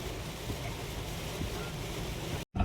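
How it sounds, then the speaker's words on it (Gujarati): A steady, loud roar of rushing water from a waterfall swollen by heavy monsoon rain on the route to Dharamshala, continuous broadband noise that cuts off briefly near the end. "અમારે નીચે અટાણે આ ધોધ પડે જોઈ લ્યો, આમ પાણી ને જોઈ લ્યો."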